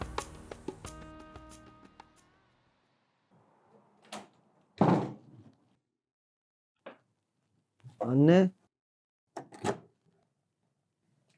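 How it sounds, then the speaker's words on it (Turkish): A door opens and closes indoors with sharp knocks, thunks and a rattling handle, several distinct bangs spread across the stretch, amid creaks and brief spoken words. "Kapı sesine uyandım."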